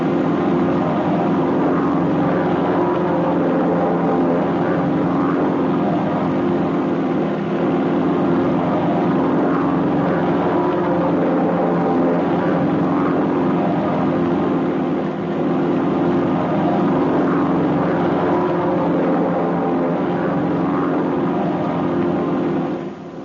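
Propeller-driven airplanes flying together in formation produce a steady, loud droning engine hum with a constant low tone, unbroken and even in level, without speech.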